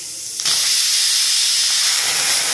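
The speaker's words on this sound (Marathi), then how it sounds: "10 ते 12 शिट्ट्या आपण आता ह्याला देणार आहोत।" Pressure cooker with dal inside releasing steam: a sudden loud, sustained hissing jet cuts in after a brief quieter moment and continues steadily to the end, close and alone.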